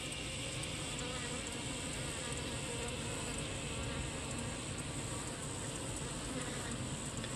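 Honey bees swarm and buzz steadily around a bank of caged virgin queens at a beekeeping yard, a dense, continuous, close drone with no pauses and no talk.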